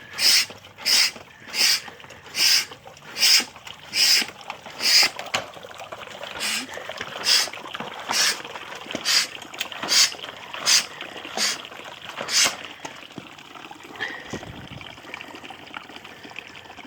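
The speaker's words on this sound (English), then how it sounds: "when I start pumping, I'm thinking it's going to start sucking the water out of this jug." Rhythmic, hissing suction pulses repeat about every second, about a dozen in a row, with gurgling water underneath as an OEMTOOLS 24937 6.0-liter pneumatic/manual fluid extractor sucks water from a jug; close and moderately loud, no talking.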